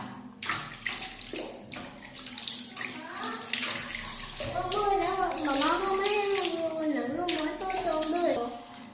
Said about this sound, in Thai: น้ำเปล่าล้างปกติเลยนะคะ